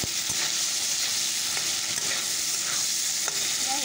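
Potatoes and drumsticks frying in a pan, a steady close sizzle with occasional light stirring scrapes throughout.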